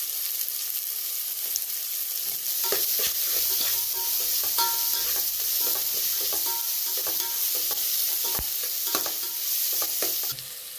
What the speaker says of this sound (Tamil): நல்லா வதக்கிக்கலாம். இஞ்சி பூண்டு பேஸ்ட் கொஞ்சம் சேர்த்துக்கலாம்.